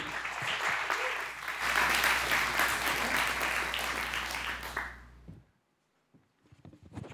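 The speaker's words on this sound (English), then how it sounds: "another round of applause" A crowd claps steadily and loudly for about five seconds, then the applause fades out, followed by faint scattered noise.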